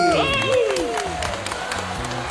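Audience applause greets a singer and her student as they come onstage at a televised music class show. The clapping is steady and fairly loud, with musical tones and voices woven through it.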